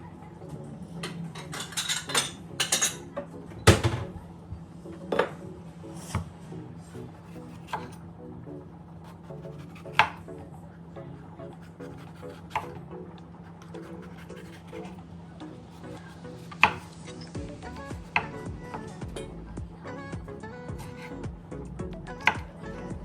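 Vegetables being cut on a board for roasted vegetable soup, with steady knife chops and scraping taps recurring across the clip, close and moderately loud, with a few sharper impacts and faint speech beneath.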